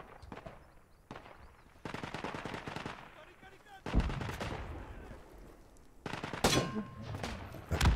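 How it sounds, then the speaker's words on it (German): Gunfire in the World War I shooter game Isonzo: bursts of rifle and machine-gun shots crack in clusters, some distant and some close and loud, with rumbling echoes between volleys. "irgendeiner schießt da schon wieder auf mich hier"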